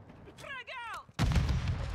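A frag grenade blast in a first-person shooter's team deathmatch, a loud broadband burst that follows a brief shouted voice line and rumbles on to the end.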